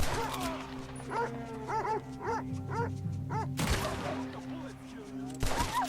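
A dog in a video game barks in a string of sharp, evenly spaced yaps over a busy game backdrop, with bursts of gunfire cutting in partway through.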